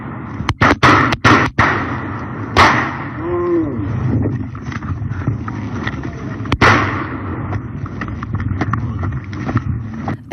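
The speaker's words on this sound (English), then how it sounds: "Shots fired!" Sharp gunshots from a police shooting ring out: a fast cluster of several cracks early on, then single reports, over noisy street background with muffled voices and commotion.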